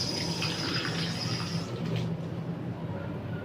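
One cup of water pours into a bowl for a rice cooker chiffon cake, a steady close hiss and splash that tapers off after about two seconds.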